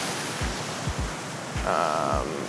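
Strong wind roars steadily over the microphone, with low thumping gusts and a faint hum in the background.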